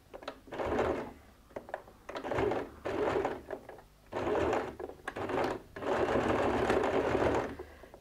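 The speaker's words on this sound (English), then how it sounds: "And now I go and sew." A sewing machine stitches a recycled denim jeans bag in repeated loud, close bursts of steady whirring, each run lasting about a second with short pauses between, ending in one longer continuous run.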